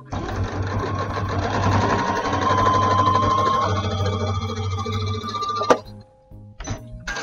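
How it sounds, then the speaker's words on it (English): A sewing machine stitches along the half-inch edges of a fabric table runner, a fast continuous mechanical whir for several seconds that stops abruptly with a click, followed by a brief short burst of stitching. "I'm going to take it back to the machine, and I'm going to sew the edges off here a half an inch."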